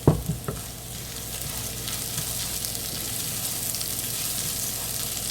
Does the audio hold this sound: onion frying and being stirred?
yes